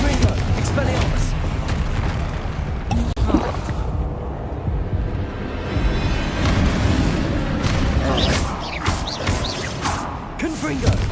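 Spells Confringo and Expelliarmus cast in Hogwarts Legacy, giving dense, steady magical blasts and booming impacts that continue without pause over a layer of game noise, with no talking.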